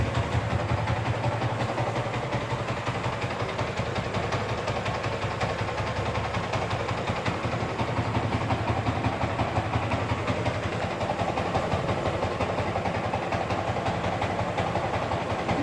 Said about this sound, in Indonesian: Kita dengarkan suara mesin.